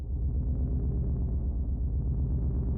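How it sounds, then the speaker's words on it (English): A low, quiet cinematic drone for sound design, holding a steady dark tone throughout with a gentle pulsing texture and nothing else over it. "And then I'm adding a drone sound."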